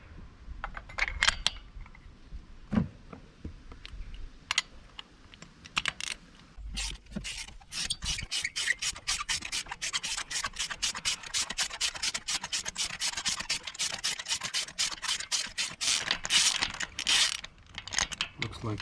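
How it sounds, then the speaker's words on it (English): A spark plug is unscrewed from a Peugeot 107 engine with a ratchet, making a long run of rapid, close clicking that speeds into dense, even ticks, with scattered handling noises before it. "We're gonna be undo this spark plug as well."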